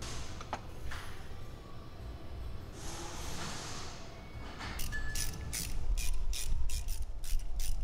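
A ratchet tightening the fuel rail bolts on an AE86 engine, with faint handling noises giving way to a run of close, rapid clicking strokes near the end.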